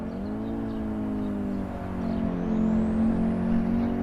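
Audi Quattro engine in the Assetto Corsa racing game on the Nordschleife, a steady droning note that rises in pitch as the car accelerates through a long corner, loud and close with no voices.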